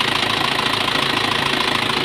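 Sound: Isuzu Panther Hi Sporty engine idling

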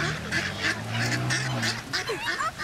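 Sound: flock of birds calling while being fed bread

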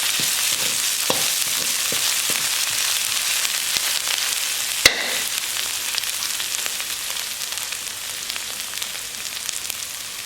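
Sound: garlic stir-frying in a pan for spicy catfish

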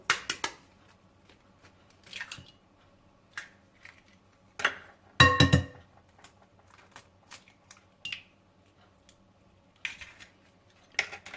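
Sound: eggs being cracked

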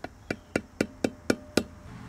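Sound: dead blow hammer tapping a new seal into an RV trailer hub

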